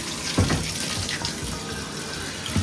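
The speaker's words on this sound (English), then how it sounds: "You're gonna just pour water on it?" Water pours steadily in a continuous close splashing stream onto toy surprise eggs frozen in ice, with a few brief clunks at the start and end.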